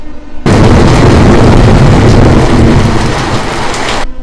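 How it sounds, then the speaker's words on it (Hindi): A loud, dense roar of heavy rain bursts in suddenly with a rumbling low undertone like thunder, holding steady for several seconds before cutting off. "अचानक जोर से बादल गरजने लगे और बारिश शुरू हो गई"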